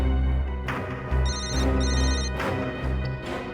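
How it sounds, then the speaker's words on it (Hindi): A phone rings close by in repeated electronic trills, layered over a loud, dense background of music or noise. "रिंग यहीं पर बज रही है कहीं।"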